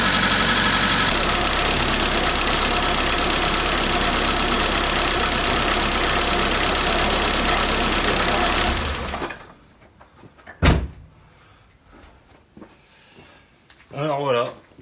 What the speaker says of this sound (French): à faire tourner le moteur au ralenti